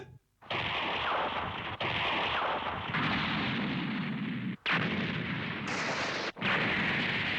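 Heavy main cannon blasts from an anime warship boom one after another in long, rumbling bursts separated by brief gaps, loud and close.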